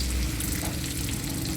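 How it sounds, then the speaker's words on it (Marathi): Green chillies fry in hot oil with a steady, close hiss and crackle that carries on without a break. "मिरची याला फ्राय करून घ्यायची।"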